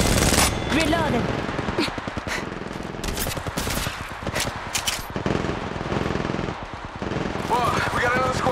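Bursts of automatic gunfire rattle in a match of Apex Legends Mobile, rapid close shots broken by short pauses, with game voice lines heard over parts of it.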